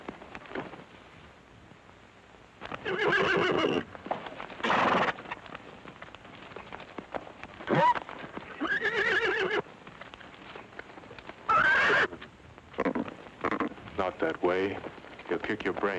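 A horse neighs and whinnies in several loud bursts, mixed with hoofbeats and other movement in a 1948 Western outdoor scene.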